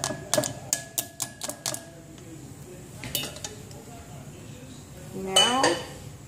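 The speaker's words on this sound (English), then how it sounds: "Now, all you have to do is just stir it a little bit." Homemade yogurt stirred in a metal pot, a rapid series of bright spoon clinks against the side, then a few scattered taps and a louder scraping swirl near the end, close up with a voice speaking quietly underneath.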